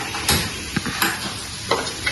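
An egg fries in a pan previously used to fry fish, a close crackling sizzle with a few sharp spatters and stirring scrapes over a steady hiss.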